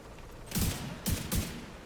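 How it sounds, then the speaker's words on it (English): Rifle gunfire in The Division 2 comes in three short, quiet bursts of two or three rapid shots each, with brief pauses between them. "with the rifle, 2 or 3 shot bursts is what I do"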